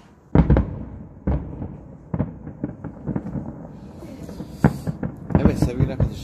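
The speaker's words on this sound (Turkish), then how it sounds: "Şimdi biraz sonra havai fişek gösterisi varmış." A garden fireworks show bursts in a series of sharp booms and crackles at varying distances, with crowd voices and chatter running underneath.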